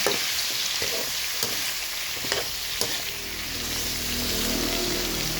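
Squash sautéing in a pan with meat for a Filipino vegetable dish, a steady close broadband sizzle with occasional stirring scrapes and taps throughout.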